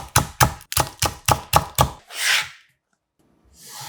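A knife slicing green onion leaves diagonally on a cutting board, eight quick, crisp, evenly spaced chops close up, followed by a soft rustle as the pieces are gathered.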